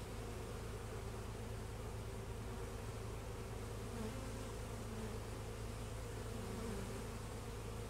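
Dense, steady buzzing of many honeybees in a weak colony's hive during an inspection, close and continuous, filling the whole stretch with no pauses and no voices.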